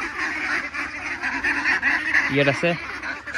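Ducks on a farm raising about 200 birds, some of them large, give two short, close quacking calls over a steady hiss of background noise.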